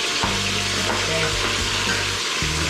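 Meat sizzles steadily in a hot pan for pinakbet, a continuous loud fry with occasional stirring scrapes and no voices.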